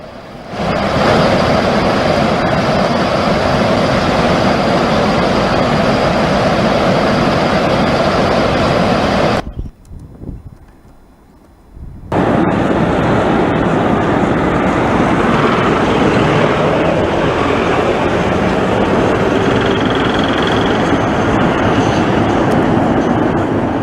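Floodwater thundering through the opened gates of Salal dam on the Chenab river, a loud, dense, continuous roar that drops out briefly midway and then resumes at full force.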